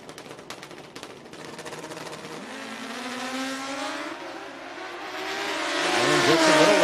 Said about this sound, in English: Rylan Rowe on tower side, and Mike Thompson, our final pair here for second and final time trials for our bracket bikes.